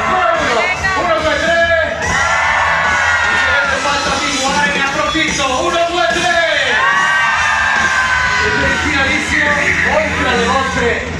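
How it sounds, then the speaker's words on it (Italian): A large crowd at a Hot Wheels show at Mirabilandia amusement park yells and whoops together on cue, a loud sustained roar of many voices with cheers and shouts rising over it. "Andiamo a tre un urlo, tutti insieme, 1, 2, 3!"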